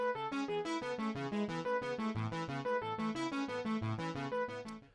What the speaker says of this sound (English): It's the Poly 6 ARP, just playing some simple chords.